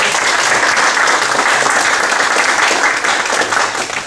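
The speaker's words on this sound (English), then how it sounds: "please give a big round of applause to those folks" A loud, sustained round of applause from a conference audience at a talk on team topologies and context maps, a thick, even roar of clapping that continues without pause for four seconds.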